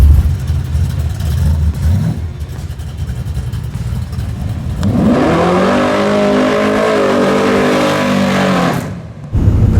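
A 700hp all-motor big block Camaro engine revs loud and close, climbing in rising pitch sweeps held for several seconds before dropping off, after a rougher, lower idle rumble.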